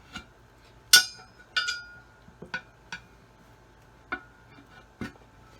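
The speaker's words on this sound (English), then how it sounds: "And then what I'm going to do is just sort of pry with this screwdriver." A screwdriver prying an old tyre off a wheel rim on a 1966 Dodge Dart GT, giving about eight sharp metallic clinks and taps at irregular intervals, close and otherwise quiet.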